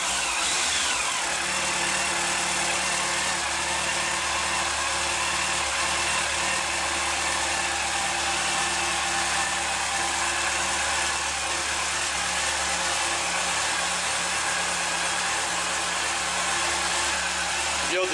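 A Yamaha FJR1300 motorcycle engine idles steadily after throttle synchronisation, a constant close mechanical hum with a smooth, even beat, while a voice talks over it at times.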